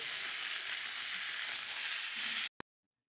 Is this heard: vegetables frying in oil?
yes